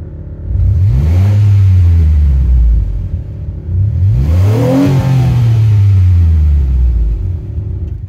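A 1996 Chevrolet Astro van with an aftermarket exhaust revs up twice with a loud, throaty note, each rise climbing in pitch and then falling back to a rumbling idle.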